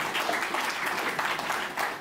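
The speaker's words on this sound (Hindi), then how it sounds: "एक बार पूरा सदन मुझे ताली बजा के आशीर्वाद दे" An audience at a comedy show claps steadily, a dense wash of applause at moderate loudness with faint voices mixed in.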